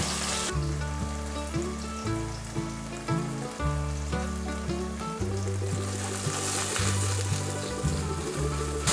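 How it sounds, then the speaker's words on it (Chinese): Tofu slowly fries in a flat pan of oil, a gentle continuous crackle and sizzle partly masked by steady background music. "先让它慢慢煎，待会再来翻面。"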